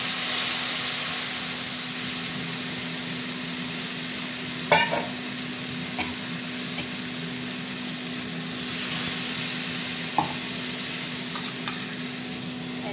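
A paste of ground poppy seeds and cashews goes into hot oil in a frying pan for a pomfret fish curry, bringing a loud, steady sizzle broken by a few brief stirring scrapes.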